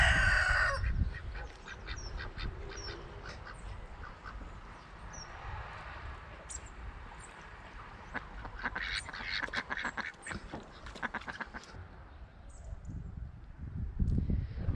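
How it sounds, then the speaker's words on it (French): Ducks bathing outdoors near a field, with repeated quacks and honking calls scattered across the clip over water splashing and faint background ambience, moderately close and without talk. "On a les canards qui sont en train de prendre leur bain."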